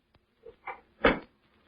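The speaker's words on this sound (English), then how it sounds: "Close the door, Albert." A cabin door swings shut in an old radio drama, a soft creak followed by a dull wooden thud, close but fairly quiet, with no voices.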